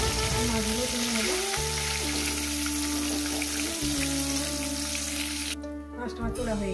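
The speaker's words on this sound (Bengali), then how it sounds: "3 টুকরো মাছ আমি একেবারে ভেজে নিচ্ছি" Three pieces of rohu fish frying in hot oil in a kitchen pan, with a continuous, close crackling sizzle under a low steady hum that briefly dips near the end.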